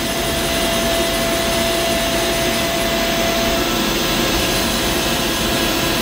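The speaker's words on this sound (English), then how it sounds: "This chuck will come in and grab the part off the main spindle and pull it out" A Doosan Puma MX2100ST CNC lathe runs as its sub-spindle chuck moves in to take the part from the main spindle, giving a loud, constant whirring roar with a faint steady tone and no speech.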